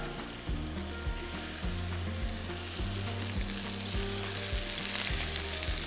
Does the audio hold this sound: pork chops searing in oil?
yes